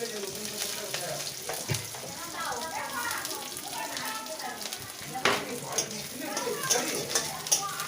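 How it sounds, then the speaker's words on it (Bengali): Chopped onions sizzling in hot oil in a pan with cinnamon and green chili, a continuous crackling fry with occasional stirring scrapes and clinks, heard alongside someone talking in the kitchen. "এরপরে আমি দিয়ে দিচ্ছি পেঁয়াজ কুচি।"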